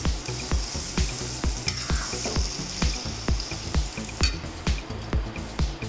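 Ground dal and spices sizzle in a hot tempering for stuffed green chili bhajiya, with a steady close frying hiss broken by regular clinks and stirring scrapes of a spoon against the pan.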